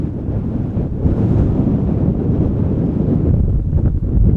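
Outdoors at Schiphol Airport on a cold day, steady wind buffets the microphone with a loud, continuous low rumble and no other distinct sounds.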